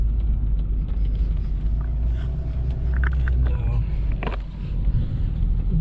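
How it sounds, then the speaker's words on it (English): A truck towing a trailer maneuvers close by while a couple of people load up, its engine giving a steady low rumble throughout with slight swells. "I'm gonna swing this truck out, swing the trailer in there"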